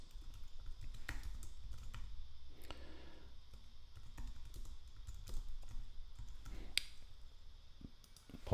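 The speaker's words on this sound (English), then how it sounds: "Apologies for my typing." Keyboard typing on a computer while building a multiple-choice form, with a steady run of quick key clicks at close range and no talking.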